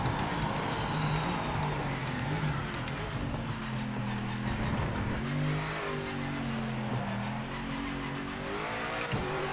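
Race car engine held at full speed in the Project Motor Racing video game on the Spa-Francorchamps circuit, a steady loud whine with shifting harmonic pitch as the car charges down the track, alone without talk.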